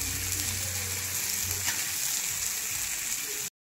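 Pomfret fish fries in oil in a pan, a loud steady hissing sizzle that runs evenly without a break and then cuts off abruptly.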